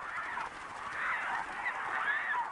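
Migratory geese honk continuously from a flock, the overlapping calls fairly distant and steady throughout, with no talking.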